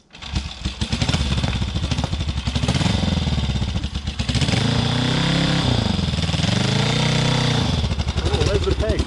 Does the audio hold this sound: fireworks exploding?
no